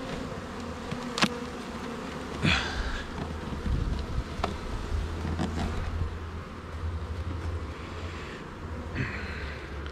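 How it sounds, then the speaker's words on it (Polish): Honeybees buzz around a beehive, a close and continuous hum that rises and falls as insects pass near, with a few soft knocks and light wind over a low rumble. "tutaj wiszą pszczoły z przodu"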